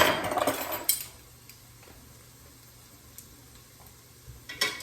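Minced ginger drops into a pot of carrot soup base with a brief sizzling burst and clink of a utensil, followed by quieter faint stirring scrapes and small taps near the end.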